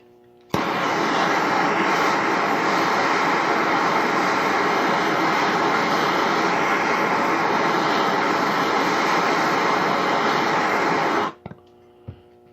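A MAPP gas torch roars steadily and loudly for about eleven seconds, heating a stuck part on a 1972 Evinrude 25HP outboard motor, then cuts off abruptly, followed by a couple of small clicks.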